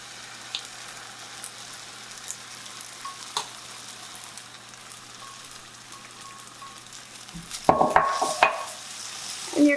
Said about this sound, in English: Now we're going to add the egg.